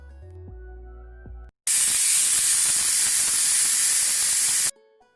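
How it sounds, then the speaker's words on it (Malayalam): A pressure cooker whistles and vents steam in one loud, continuous hiss lasting about three seconds, cooking chickpeas for a Kerala kadala curry, with quieter kitchen sounds before and after. "കുക്കറിൻ്റെ വിസിലൊക്കെ വന്നിട്ടുണ്ട്."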